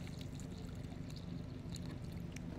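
Water is poured onto the base of a tomato plant to dissolve a Tums tablet, a quiet, steady trickle and splash that goes on without a break and with no talking.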